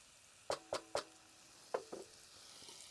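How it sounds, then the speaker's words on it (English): Garlic sautéing in a pot at a solo camp stove, heard as a few soft, separate crackles and pops spaced over a couple of seconds, quiet against a faint background with no talking. "Let them saute for a little while."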